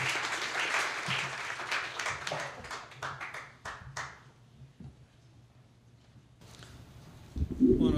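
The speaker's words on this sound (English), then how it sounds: "Can you all welcome our panelists with a round of applause," Lecture-hall audience claps to welcome the panelists at an Emancipation Proclamation talk, a burst of many hands that thins into scattered claps and fades to near silence, with a louder rustle at the end.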